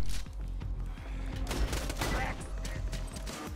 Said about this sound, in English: These guns have horrible friggin' accuracy.